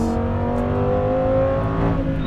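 A loud, close race car engine at a track pulls hard on the throttle, its steady whine climbing smoothly in pitch for a couple of seconds with no talking.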